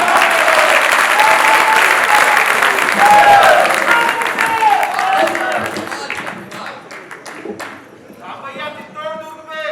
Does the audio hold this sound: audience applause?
yes